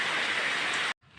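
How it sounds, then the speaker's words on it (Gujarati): Light drizzle patters steadily outdoors after heavy rain, a soft, even hiss that cuts off abruptly near the end. "ફાઇનલી વરસાદ વહી ગયો છે ને ઝરમર ચાલુ છે"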